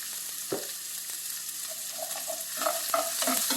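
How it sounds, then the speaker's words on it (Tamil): Onions sautéing in a pan while being cooked down for a cauliflower and pea stir-fry, with a soft continuous sizzle, scattered stirring scrapes and clinks, and no talking. "வெங்காயம் நல்லா வதங்கணும்"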